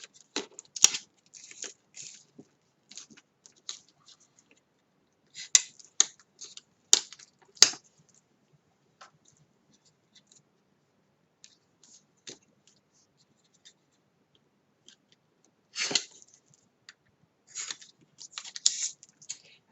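Corners of a handmade album being cut at a bevel, heard as short, crisp snipping clicks in scattered bursts with quiet pauses between them.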